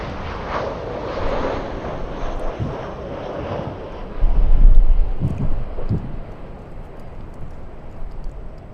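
A Boeing 777 airliner landing at LAX in gusty wind, heard as a steady broadband jet roar with wind buffeting on the microphone, swelling louder midway and easing off; no talking.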